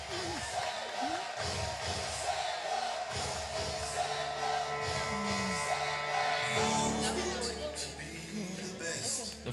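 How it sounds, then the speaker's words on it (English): A conference audience at an African brand awards event reacts with crowd noise, scattered cheers and whoops, while voices talk over it throughout. "A round of applause."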